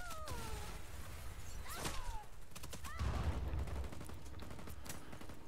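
Gunfire in the video game Just Cause 4 during a base intrusion, sharp shots and bursts crackling amid dense game noise, with descending whistles and a low rumbling blast near the middle.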